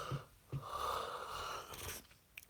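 A person yawns aloud, a long breathy stretched sound with a couple of short sniffs before it, fairly close and quiet, with no talking.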